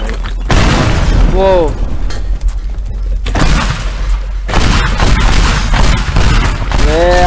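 Pipe bombs going off in a video game set at the White House, heavy booming blasts and crackling debris filling the scene continuously under excited voices talking.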